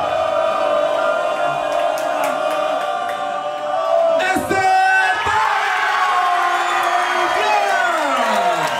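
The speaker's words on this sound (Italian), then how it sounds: "Un grandissimo applauso anche alla sua avversaria, ad Alessia." A crowd cheers, whoops and applauds loudly after a women's fencing bout, the roar sustained throughout with shouts and claps swelling midway.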